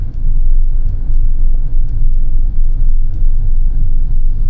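A 2025 Chery Tiggo Cross's 1.5-liter turbo four-cylinder engine hums steadily at idle or low speed, a smooth, continuous low rumble with no voices.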